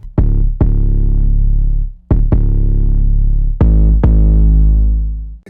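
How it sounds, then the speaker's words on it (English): Deep booming 808 bass in a rap beat, played as three pairs of quick punchy hits with long sustained tails, loud and alone. "and then I came up with this 808 pattern."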